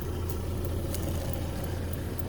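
A Toyota Hilux work vehicle on a remote road in the Northern Territory, Australia, idling with a steady low engine rumble and a continuous noisy hum throughout, with no talk.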